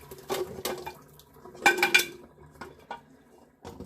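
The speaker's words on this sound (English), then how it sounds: "I'm going to go ahead and drain the water off." Water pours and splashes into a sink as it is drained from a pot of boiled eggs, while the metal pot clanks and rattles, with a louder burst of clattering midway and intermittent knocks.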